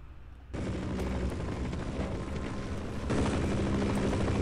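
A helicopter in Half-Life thrums its rotor loudly and steadily, with a louder burst of noise joining partway through.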